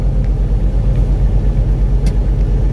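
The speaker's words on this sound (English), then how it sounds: "we are back to truck driving now." Low, throbbing engine rumble from a truck on the road, a loud, steady drone with a faint pulsing beat and no talking.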